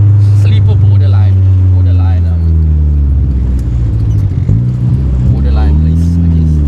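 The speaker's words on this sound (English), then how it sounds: "does the turbo make this car this loud?" A Honda car engine with a turbocharged B20 rumbles loudly and steadily close by, its low drone rising and falling as it revs, with voices talking over it.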